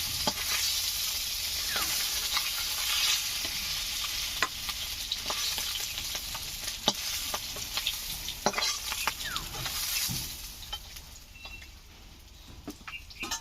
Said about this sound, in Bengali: সবগুলো মাছের মাথা ভেজে নিয়েছি, তুলে নিচ্ছি।